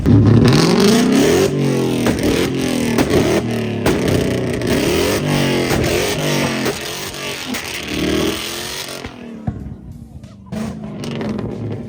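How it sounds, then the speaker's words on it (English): Several Ford Mustangs at a car meet rev their engines loudly nearby, overlapping roars rising and falling, with people talking in the background before it quiets. "then all these Mustangs started revving it"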